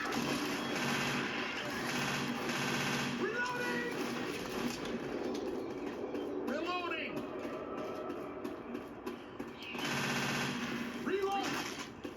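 Dense gunfire in Left 4 Dead 2, rapid automatic bursts rattling almost continuously and loudly in a zombie-filled game level, with someone talking over the shooting.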